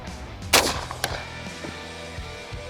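A single shotgun blast from a Benelli Super Black Eagle 3 or Browning Maxus 2 semi-auto, sharp and loud near the start, followed by a fainter second report and a lingering outdoor tail of low rumble.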